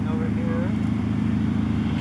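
A truck drives by near a horse paddock on a December day, its steady low engine rumble droning throughout beneath a person talking.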